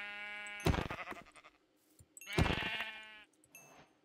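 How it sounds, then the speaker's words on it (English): Two loud, close sheep bleats from the Minecraft video game, each a drawn-out wavering call, with a fainter third bleat trailing at the end and brief quiet gaps between. "A lot of sheep."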